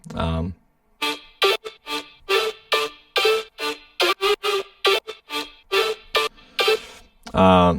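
Resampled guitars layered with basses hit in a dubstep drop, a loud run of chopped, stuttering bursts in a tight rhythm with short gaps between them.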